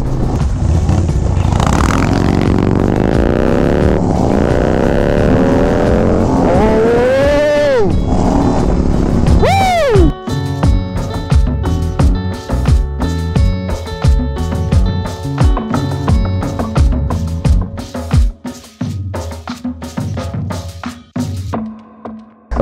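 A 2024 Harley-Davidson Street Glide with a 135 engine rumbles and revs up through sweeping rising tones for about ten seconds, then gives way to loud music.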